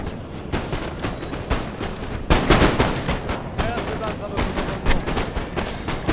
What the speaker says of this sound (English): Whoa, that was a devastating volley.